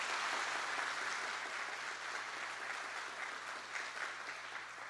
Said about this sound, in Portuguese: vamos dar uma salva de palmas a eles